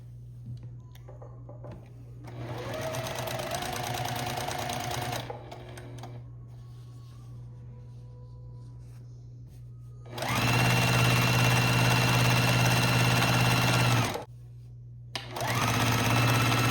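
Sewing machine stitching a quarter-inch quilt seam on a baby quilt, bursts of rapid rhythmic whirring that start and stop several times over a constant low motor hum, close and fairly loud.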